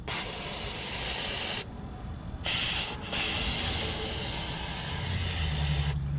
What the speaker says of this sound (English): use some brake clean and clean the diff cover up